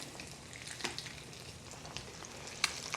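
Cheese crisping in a skillet beside cooking eggs gives a steady soft sizzle and crackle, with a few sharper spatula scrapes and ticks standing out near the pan.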